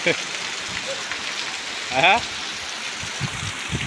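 Heavy rain pours steadily across a farm field where chillies were being picked, a broad hiss of drops with a voice breaking through briefly.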